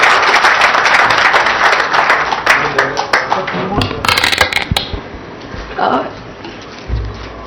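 An audience applauds at Minister KTR's launch of the TS-bPASS website. Dense clapping rings out loudly, then thins to scattered individual claps and fades.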